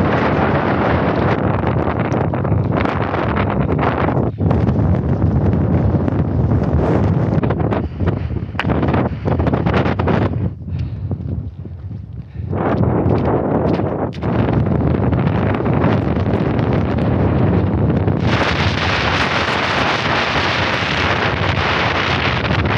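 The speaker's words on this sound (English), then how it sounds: "if you've ever been to the Lake District and got up quite high, you'll know how unbelievably windy it can get" Strong wind buffeting the microphone of a DJI Osmo Action 4 camera high on a Lake District hillside: a loud, constant roaring rumble with gusty surges that ease briefly before returning, with no voices.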